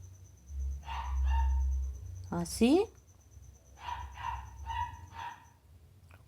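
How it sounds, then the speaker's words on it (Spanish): Small dogs indoors give a few quick, sharp barks in the middle, with soft speech before and after and a low rumble underneath. "Perdón por el ladrido de mis perritos"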